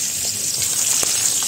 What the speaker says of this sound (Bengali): এদিকে যে রুই মাছ ভাজা হইতেছে